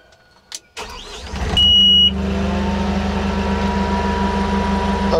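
A tractor engine starts up and settles into a steady, close idle around 1,000 RPM, with a low even drone and a brief high tone near the start, no talking.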